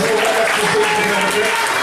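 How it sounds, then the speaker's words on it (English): A university audience at a stage hypnotist show in Birmingham breaks into dense, sustained applause for the volunteers, a close crowd clatter with voices mixed in. "give my volunteers here a massive round of applause"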